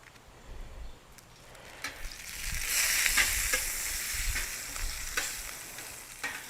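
Oil and butter sizzle on a hibachi griddle while fried rice is made, a steady crackling hiss that swells midway, punctuated by scattered scraping taps of a utensil.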